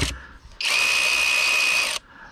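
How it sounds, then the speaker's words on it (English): A Skil PWRCore 12 cordless 3/8 ratchet runs in one steady, loud high-pitched whir of just over a second, with brief handling noise before and after it and no talking. "this is a 3/8 ratchet here"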